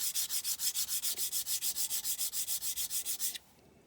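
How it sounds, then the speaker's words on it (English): A sanding stick rubs back and forth over a small silver shape, about twenty quick, even strokes with a bright scratchy rasp that stops abruptly near the end. "for small shapes like this, I find a sanding stick"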